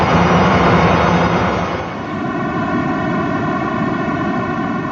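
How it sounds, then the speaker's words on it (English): Loud, steady broadband hiss standing in for the primordial afterglow of the Big Bang; after about two seconds it softens slightly as a few faint sustained tones emerge within the noise, with no voices. "Very powerful, but really hissy, white noise kind of sound."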